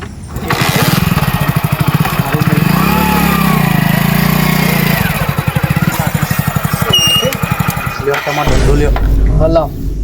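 A motorcycle engine revs loudly and steadily, a rapid pulsing drone up close, with a voice talking over it and a brief drop near the end.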